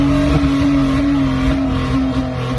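A Honda Odyssey minivan with a loud aftermarket exhaust drones hard under acceleration, a steady close, buzzy roar with a strong tonal note holding throughout.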